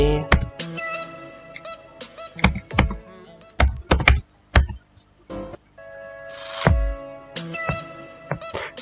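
Registration details go in on a computer keyboard through irregular bursts of close key clicks and heavier thunks, with brief pauses between them.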